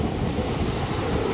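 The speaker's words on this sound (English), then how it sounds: "Look at these waves. The water out here is so rough." Rough ocean waves at Cabo San Lucas churn in a steady, dense roar, with wind buffeting the microphone throughout.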